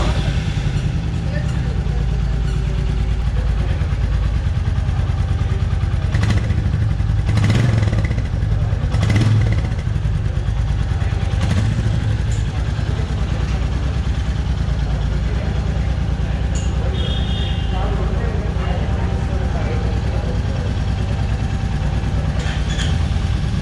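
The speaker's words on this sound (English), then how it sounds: "Now I'll turn on the engine and show it for you guys." A Royal Enfield Meteor 350 motorcycle idles steadily and close by, its even low thrum continuing throughout while a person talks over it.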